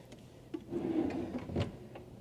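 A drawer in a hotel room slides shut with a short wooden rumble and scrape, ending in a soft knock, close but quiet, with no talking.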